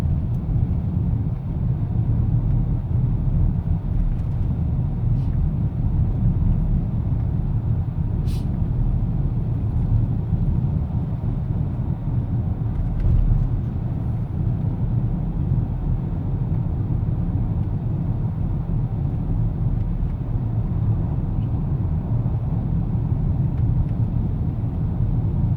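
Steady low rumble of a car driving through Kirkland near Seattle, heard from inside the cabin, continuous road and engine noise without breaks, with faint occasional clicks.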